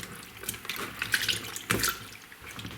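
Fresh mushrooms with dried grass stuck to them are rinsed under a running tap in a sink, giving a steady close splashing of water with a few louder spatters and brief surges, and no talking.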